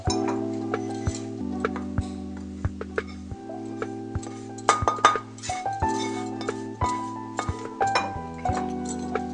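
Roasted coconut for Indian coconut burfi is moved into another cooking vessel, with metal utensils clinking and tapping against pots in scattered close knocks over a steady low hum.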